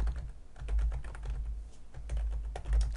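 Typing on a computer keyboard while entering a record in Access, steady close key taps over low background hum, with no talk.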